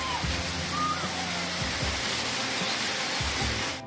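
Heavy rain pours steadily outdoors as a broad, continuous wash of water noise, loud and unbroken throughout, with faint low voices and household hum underneath.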